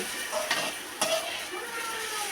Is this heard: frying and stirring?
yes